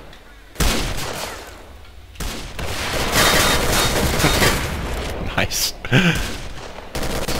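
Bursts of video-game gunfire from S.T.A.L.K.E.R.: Call of Pripyat, dense volleys of shots rattling continuously across the clip with a brief lull at the start, loud and close, with a short spoken remark partway through.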